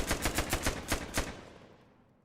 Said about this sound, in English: I'm sitting here wondering what happens if you shoot him